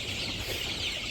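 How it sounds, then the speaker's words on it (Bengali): Chickens in a village yard drinking water, a brief burst of soft clucking over a dense, noisy background. "মুরগিতে পানি খাইতেছে"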